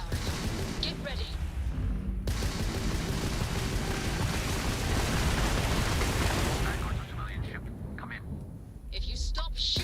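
Spaceship weapons firing in the Starfield video game, dense sustained blasts and explosive rumbling for several seconds, then quieter bursts with voices speaking over the battle.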